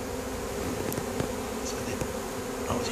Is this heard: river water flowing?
no